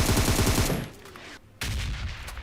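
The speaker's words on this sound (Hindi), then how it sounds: "और इस बार टॉमी गन से हमला होता है।" Tommy gun fire in the mobile battle royale game BGMI: a loud rapid burst of automatic shots, a brief lull with a near-silent gap, then more sustained loud gunfire.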